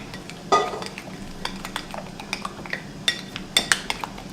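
A creamy brown BBQ sauce is stirred in a pot, the spoon scraping and clinking sharply against the metal in irregular taps, close by and without talk.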